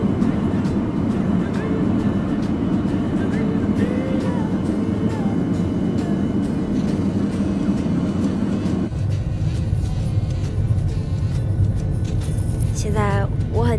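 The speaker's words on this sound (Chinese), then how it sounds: "要起飞啦。" An airliner roars steadily through its takeoff run bound for Los Angeles, a loud continuous engine rumble heard from inside the cabin, with the tone shifting partway through as the plane lifts off.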